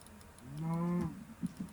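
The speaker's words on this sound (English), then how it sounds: "Alright, just slaughter all these cows." One Minecraft cow gives a single short, low moo, fairly quiet, followed by a couple of faint clicks.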